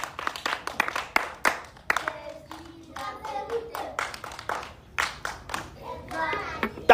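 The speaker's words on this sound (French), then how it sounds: "Tapez les mains pour Jésus." A church congregation claps hands together in worship, a quick rhythmic run of sharp claps over most of the stretch, with a voice speaking and calling out between and over the clapping.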